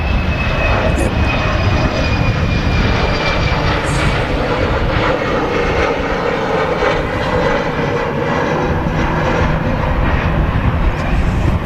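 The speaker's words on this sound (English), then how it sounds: "KLM Embraer just rotating there." A KLM Embraer jet rotates on takeoff at Manchester Airport, its engines a loud, sustained roar that holds steady throughout, with a brief spoken word over it.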